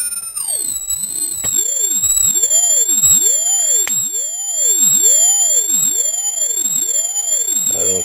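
An ultrasonic dog bark deterrent sound blaster cannon emits loud electronic tones, a high steady whine with lower sweeping tones that rise and fall in repeated arcs, continuous throughout.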